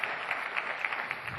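Conference audience applauding at a Microsoft SQL Server talk in Amsterdam, a steady dense wash of many hands clapping that stays even and fairly loud throughout.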